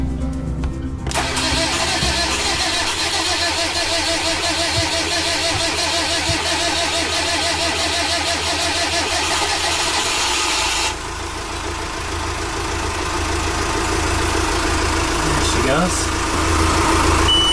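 Main engine on a cruising sailboat cranks and catches about a second in, then settles into a loud, steady mid-pitched idle with a slight dip partway through, with talk over it.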